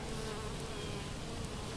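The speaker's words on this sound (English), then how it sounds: "a lot of bees." Bees swarm around an open-air hive in Yulee, Florida, making a dense, continuous close buzz with a few individual insects droning past.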